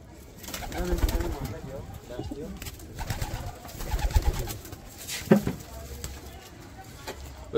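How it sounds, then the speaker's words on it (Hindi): Pigeons, Kala Menadagh and Shirazi breeds in Lucknow, coo softly and repeatedly close by, their low burbling calls mixed with people talking in Hindi and scattered rustles. "दोस्तों अभी जाल से बाहर निकाल कर शौक कराएंगे कबूतरों का"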